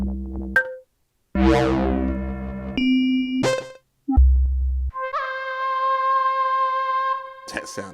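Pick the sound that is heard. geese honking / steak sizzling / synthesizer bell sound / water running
synthesizer bell sound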